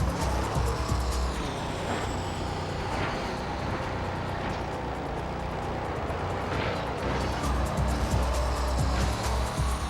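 Race car in the Midnight Club 3 video game driving a slippery sliding race in the rain, its engine roaring steadily and loudly throughout with continuous road and tire noise, no talk.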